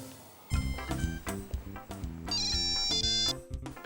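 A phone chimes with a text message alert, a short bright melodic ringtone of stepped electronic notes playing for a few seconds, close and clear.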